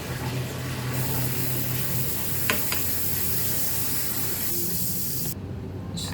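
Sisig frying in butter in a pan gives a steady, loud sizzle throughout, with a couple of brief utensil clicks partway and a drop in the hiss near the end.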